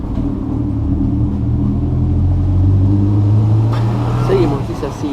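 Cars pass by outside, heard from indoors as a low, steady rumble that swells as one vehicle goes past midway, then eases off, moderately distant.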